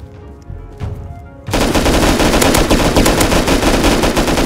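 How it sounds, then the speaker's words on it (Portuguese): Dense, rapid automatic gunfire bursts in loudly after a quieter opening and continues nonstop, sharp and close, like a firefight in the shooter game Rust. "Olha que eu tô tomando tiro"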